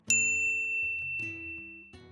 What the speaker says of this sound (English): ring the bell to get notified about our latest videos